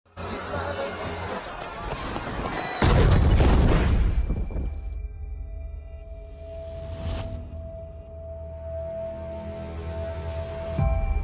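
A sudden loud bomb blast bursts out over a noisy scene in the film Civil War, followed by a rumbling, ringing aftermath and a lower, droning background.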